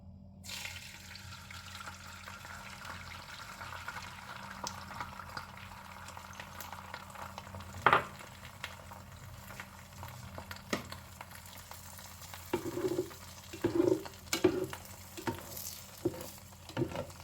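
An egg fries in a little oil in a pan for a Chinese tomato and egg dish, a soft continuous sizzle with occasional pops and scraping clatters toward the end.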